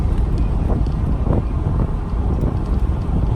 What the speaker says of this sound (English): Y'all may not even be able to hear me because of this wind.